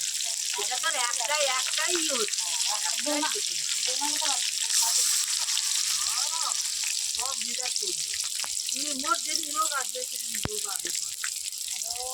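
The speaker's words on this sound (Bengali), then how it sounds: "মূলা ফুলে বড়া ভাজা" Radish flower fritters deep-frying in hot oil, giving a dense, continuous hiss and crackle that stays steady throughout, while someone talks over it in the foreground.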